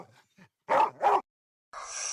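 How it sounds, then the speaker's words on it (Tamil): Two loud, close dog barks burst out in quick succession with short faint yips before, followed by a steady broadband hiss afterward; no one speaks. "நாய் குலைக்கிற சவுண்ட் கேக்குது"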